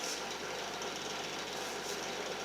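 Power drill boring out and widening holes in a wooden guitar headstock for a double-neck guitar build, a steady close whirring grind that holds unbroken for a couple of seconds with no voices.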